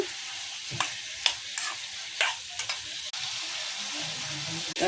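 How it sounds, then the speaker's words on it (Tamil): Curry leaves and boiled snake gourd are stirred in a hot pan, with utensil scrapes and taps recurring every second or so over a steady background sizzle, close and moderately loud, with no one talking. "வேக வச்ச புடலங்காய் சேர்த்துக்கலாம். மிக்ஸ் பண்ணி கொடுக்கலாம்."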